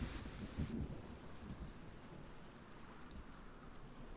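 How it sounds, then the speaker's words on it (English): Video game weather of steady rain hisses with a low rumble of thunder at the start, a soft, even wash of noise throughout and no voices. "We could make it rain."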